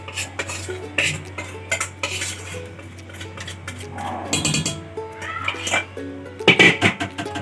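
Cake batter for a choco banana cake scraped and poured into a buttered, flour-dusted pan, with repeated light clinks and scrapes of a utensil against the metal pan, fairly close, under a steady low background hum.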